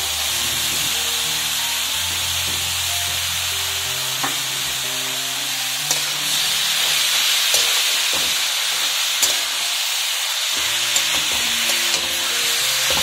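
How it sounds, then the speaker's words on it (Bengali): 500 grams of carrots frying in hot oil, a loud continuous sizzle and hiss with occasional spoon scrapes against the pan, close and without talk, a low hum running beneath. "এবার আমি এর মধ্যে দিয়ে দেব গাজর। আমি এখানে 500 গ্রাম পরিমাণে গাজর নিয়েছি।"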